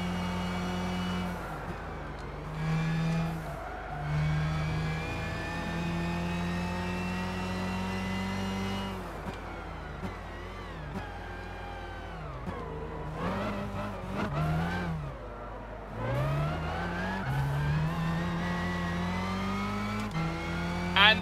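Race car engine in the Gran Turismo 6 video game, a continuous loud whining drone that rises with acceleration and drops sharply at gear shifts and braking, steady throughout with no talking.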